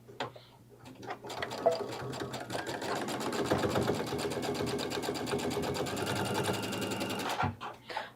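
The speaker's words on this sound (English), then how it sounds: "So while she's sewing some of those," Sewing machine stitching tea-towel fabric into bowl cozies, a steady fast mechanical whir with rapid needle ticking running several seconds before stopping abruptly, close and fairly loud.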